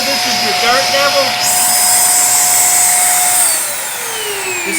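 A Hoover Airlift steerable vacuum cleaner with detachable lift canister runs steadily and loudly with a high whine whose pitch shifts partway through, while someone talks briefly over it at first.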